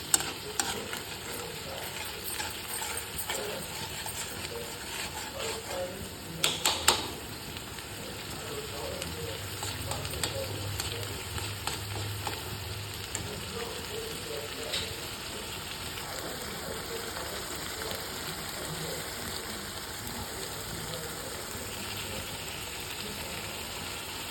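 A fenugreek leaf chutney mixture cooks in a pan, giving a steady soft sizzle and crackle with occasional stirring scrapes and a few louder clatters near the start.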